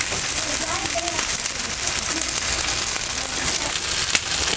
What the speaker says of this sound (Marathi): तेल सोडते आणि एक दोन मिनटं चांगलंसं आपण एका बाजूनं भाजून घेऊया